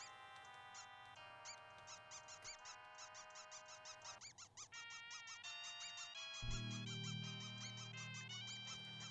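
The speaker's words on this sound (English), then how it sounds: "Do you guys hear that, though? It squeaks." A squeaky object in an island-exploration video game gives off a rapid run of high, chirpy squeaks, steady and fairly faint, over bright tonal game music with a deeper hum joining near the end.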